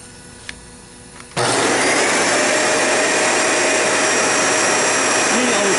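A Dyson Ball Animal 2 upright vacuum cleaner with a clean filter and canister switches on after a quiet second, then roars with a loud, steady, close motor whine.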